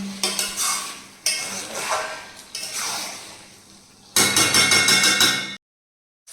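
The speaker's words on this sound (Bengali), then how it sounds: "আর এই যে সব সবজিগুলো এখন ভেজে নিচ্ছি" Mixed vegetables fry in a pan for fried rice, with a close sizzle broken by repeated bursts of scraping and stirring from a spatula, stopping abruptly near the end.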